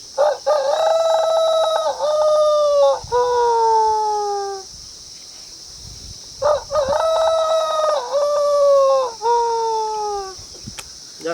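A man imitates a rooster crowing with his voice, giving two long, loud, drawn-out cock-a-doodle-doo calls close up with a short pause between them.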